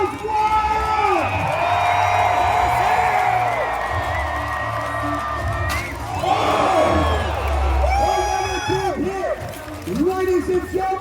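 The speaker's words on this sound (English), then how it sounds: "And the crowd goes wild!" Spectators at a Renaissance fair joust roar and whoop, with shouting voices, children's cries and loud cheering rising and falling. Announcer-like speech and scattered yells come through the crowd noise.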